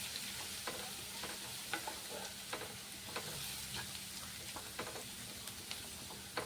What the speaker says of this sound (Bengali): রসুনটা একটু ভাজা ভাজা করে নেওয়ার পরে